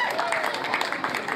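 An audience at a children's holiday program event in Njisse-Foumban applauds, a dense patter of many hands clapping steadily and fairly loud throughout.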